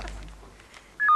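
A telephone number is dialed: a brief soft lead-in, then clear, loud keypad tones sound near the end.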